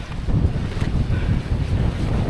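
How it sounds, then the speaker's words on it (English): Strong wind gusting loudly across an open winter mountainside on the ascent toward Codale Tarn, a steady roaring rush with buffeting surges against the microphone, no voices. "It's getting windier as we get higher"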